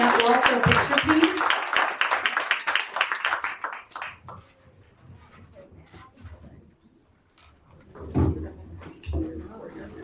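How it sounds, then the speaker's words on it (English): Audience clapping at a school board meeting, a burst of applause during the first few seconds that fades out, followed by shuffling and movement with people talking nearby. "So give them one more round of applause."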